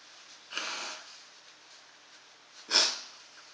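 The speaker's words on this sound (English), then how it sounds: "Hang on, yeah, I blow my nose." Two short, breathy nose blows, the second louder, close to the listener in an otherwise quiet space.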